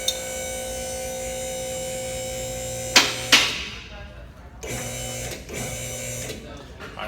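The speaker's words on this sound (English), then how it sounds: "we're going to raise the vehicle approximately 10 inches and check the load and make sure it's level and secure" A shop vehicle lift raising a car, giving a steady electric motor hum with tonal whine for several seconds, two sharp clanks or hisses partway through, then the hum dropping and resuming more quietly.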